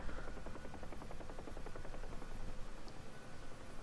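Simulated helicopter in the DCS flight game flying between buildings, a steady, fairly quiet rotor thump and engine hum with a continuous rhythmic beat and no talk.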